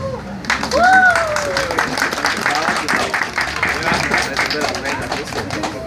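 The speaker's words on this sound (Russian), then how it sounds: "Аплодисменты чемпионы" Audience applause for a team of world champions in macaroni bridge building, a dense steady patter of many hands clapping that fills the room, with a voice speaking over it near the start.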